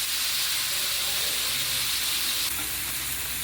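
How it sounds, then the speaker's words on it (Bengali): Paneer frying lightly in a pan with turmeric and salt, giving a steady, close sizzle and hiss that runs unbroken throughout with faint stirring, no voices. "পনিরটা হালকাভাবে ভাজছি।"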